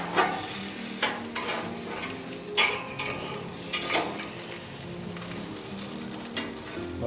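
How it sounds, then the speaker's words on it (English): Squid frying in oil in a pan, grilled Filipino-style as inihaw na pusit, giving a continuous close sizzle with crackling bursts and scraping stirs after being flipped. "it's time to flip over the fish."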